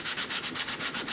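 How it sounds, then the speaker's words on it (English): Sandpaper is rubbed back and forth over a seam area while prepping for paint, making about nine quick, even scratchy strokes in a steady rhythm, close and alone. "underneath the bottom here is a pretty big seam area. That's pretty much not seamed, but we'll go ahead and sand that off."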